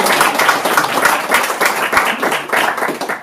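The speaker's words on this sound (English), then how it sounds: "let's all put our hands together and give a huge round of applause to Gareth." Lively applause from a small audience at a bookshop reading in Ludlow, close and fairly loud with individual claps audible in an uneven rhythm.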